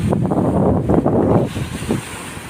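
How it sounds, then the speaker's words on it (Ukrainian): A light breeze buffets the microphone on an Italian beach while gentle sea waves wash in, making a soft, irregular surging rush that eases off toward the end, with no talking. "Такий легенький вітерець, бачите, море таке собі гарне, зовсім не холодно."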